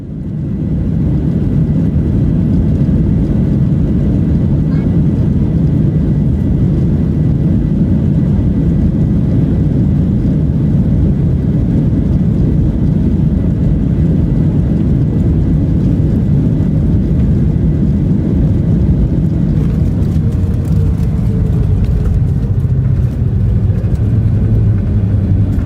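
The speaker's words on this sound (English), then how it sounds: "This Boeing 737 suffered technical problems during its takeoff from Brazil and had to abort." A Boeing 737 in Brazil with technical problems, aborting its takeoff: a loud, steady, rumbling roar of engines holds throughout, with rushing noise and brief crackles near the end.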